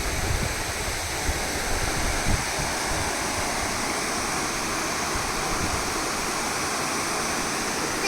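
Water rushes steadily over a village check dam in Telangana, a loud, continuous broadband roar with no voices and no breaks.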